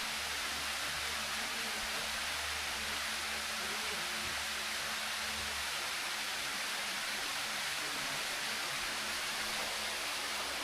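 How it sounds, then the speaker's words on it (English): Water pours down the Bua Tong sticky waterfall in Chiang Mai, Thailand, as a constant broadband hiss and roar, steady and moderately distant, with no voices over it. "And there's the waterfall."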